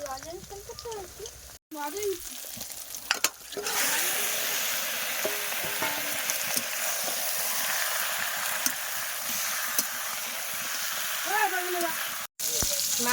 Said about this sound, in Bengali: এই যে কড়ার মধ্যে দিয়ে দিয়েছি অল্প তেলের মধ্যে দিয়েই করছি মাছ